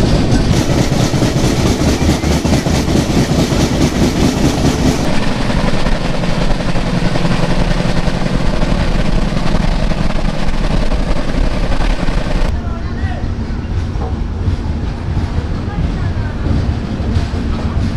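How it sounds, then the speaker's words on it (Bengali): A Shipra Express train runs on rails between Indian junction stations, heard from inside the moving carriage as a loud, continuous rumble and rattle that keeps up throughout, with the tone shifting partway through. "ট্রেনটা ছেড়ে দিল ডাবৌড়া জংশন।"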